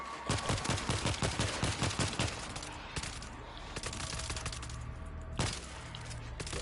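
A 50 cal machine gun firing in the World War Z video game, a fast rhythmic burst of heavy shots followed by scattered gunfire and a single loud crack, loud and close.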